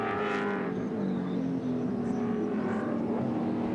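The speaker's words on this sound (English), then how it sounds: "The Castrol Commodore and the boss at the wheel, Larry Perkins." A Castrol Holden Commodore touring car races at Mallala in the 1997 Australian Touring Car Championship, its engine a loud steady roar with pitch shifts as it passes close by.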